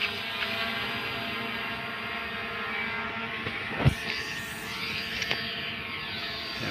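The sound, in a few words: drone flying overhead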